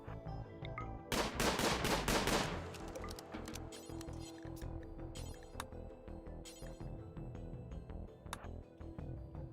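Rapid bursts of gunfire rattle out in the RimWorld game as a colonist shoots at a snail, a dense volley followed by scattered single shots and clanks over a steady game backdrop.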